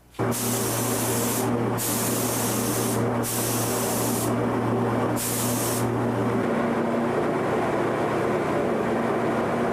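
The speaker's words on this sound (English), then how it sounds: "this was sprayed with compressed air and a spray gun" A compressed-air spray gun laying a coat of clear lacquer on a guitar peg head, with loud hissing bursts of varying length over a constant compressor drone, followed by steady airflow without spray.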